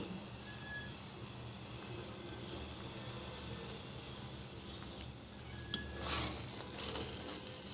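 Carrot halwa cooking with ghee in a pan gives a quiet, steady sizzle and faint bubbling, with soft scraping from stirring and a short clatter near the end.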